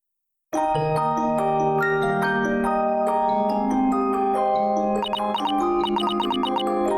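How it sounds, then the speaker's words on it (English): Large cabinet music box playing a disc in a video game, producing bright plucked metallic notes in a gentle lullaby-like melody with sustained ringing tones and a cluster of high chiming notes near the end, no speech. "What's this big adorable box? It's a music box."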